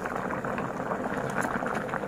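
Water with rice in it bubbles at a steady rolling boil in a pot, a close, continuous burbling with no talking.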